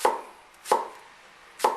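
A cleaver chops through an onion on a cutting board in three sharp, evenly spaced strikes, each with a crisp impact and a short fade, with no talking.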